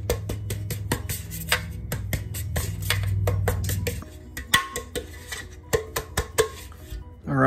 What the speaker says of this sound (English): So you want to shake your pan all around,